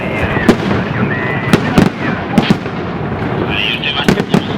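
Fireworks castle at the Fallas festival in Valencia, with sharp crackling bursts and pops going off irregularly over a dense background rumble of the crowd, and people talking nearby throughout.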